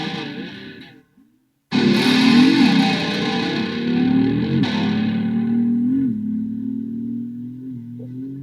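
Electric guitar run through distortion and effects, with the whammy bar held down to mimic a Harley-Davidson motorcycle: a loud, gritty, revving drone that cuts off briefly and then roars back, sliding and wavering in pitch as it fades slightly.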